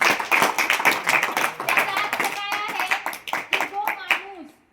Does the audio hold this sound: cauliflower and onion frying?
no